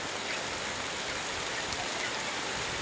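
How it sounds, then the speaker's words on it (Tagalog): A steady, dense wash of heavy rain from a storm hisses throughout, a constant rushing downpour without pauses or voices. "malakas na po ulan"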